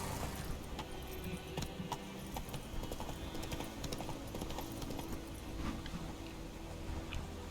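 Roach the horse's hooves clip-clopping in The Witcher 3, a quiet, steady run of hoofbeats over a low ambient bed, with no voice over it.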